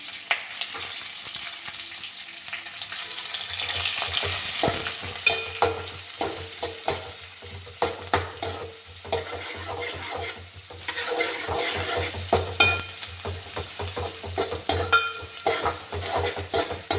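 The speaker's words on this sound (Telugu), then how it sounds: "ఉల్లిపాయ ముక్కలు, పచ్చిమిరపకాయ ముక్కలు వేసుకుంటున్నాను." Onion and green chilli pieces fry in hot oil for a poori curry, with a continuous sizzle and repeated scraping stirs of a spoon against the pan at a steady pace.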